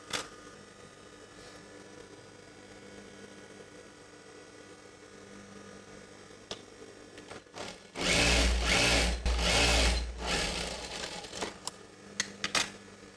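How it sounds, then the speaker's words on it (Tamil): An electric sewing machine stitches chudidar pant pieces, a loud rapid mechanical whirring burst that starts and stops in short runs, preceded by quiet handling noises. "இந்த பிட்டு ஜாயின் பண்ணி ரைட் சைடில் ஸ்டிச் பண்ணிக்கலாம்"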